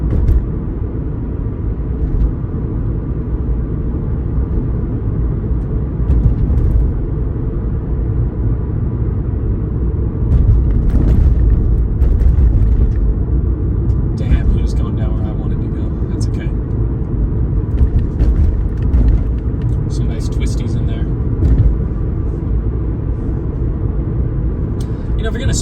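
Toyota Supra fitted with a front strut tower bar, its engine droning at a low steady rumble from inside the cabin while driving, with road noise throughout and a person talking over it.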